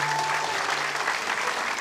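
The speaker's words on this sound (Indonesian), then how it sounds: "Tepuk tangan dulu untuk Rahim" Studio audience applause during a televised cooking show, a steady dense wash of clapping that holds evenly throughout at moderate loudness, with no voices over it.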